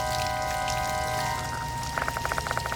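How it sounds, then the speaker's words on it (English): Filthy water spewing from slender rubber hoses in Spirit Hunter: Death Mark II, a steady rushing wash under low droning tones, with a run of sharp dripping splashes near the end. "Guessing that explains the sound of running water."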